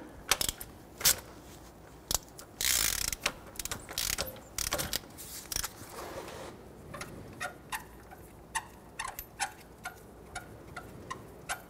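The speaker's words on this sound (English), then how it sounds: "Remove the crank bolt." A hand ratchet works loose an engine crank bolt: sharp, irregular clicking pawl strokes, some in quick bursts and some spaced apart, close and clear with no talking.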